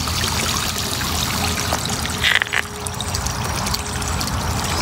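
Water pours steadily from a garden pond water feature, a continuous splashing trickle heard close by, with a brief louder splash midway and no talking.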